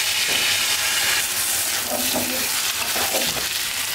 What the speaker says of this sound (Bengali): পেঁয়াজটা লাল হয়ে গেছে, এখন চাউলগুলো দিয়ে দিচ্ছি।